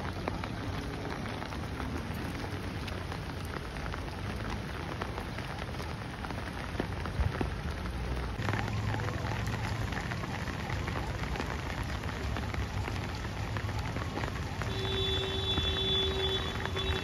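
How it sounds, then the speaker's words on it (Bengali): Heavy rain pours steadily during a flood in Agartala, Tripura, a dense, continuous hiss of drops on surfaces with no talk, growing slightly stronger toward the end. "ত্রিপুরাতে এত পরিমাণ বৃষ্টি।"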